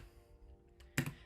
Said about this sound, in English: And now I type in whatever I want to look for.